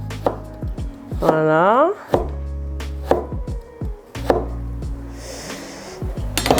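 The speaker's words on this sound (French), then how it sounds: "je prends un demi-citron que je coupe aussi en rondelles" A knife slices half a lemon into rounds on a cutting board: a series of close, crisp chops in an uneven rhythm, with a single short spoken word near the end.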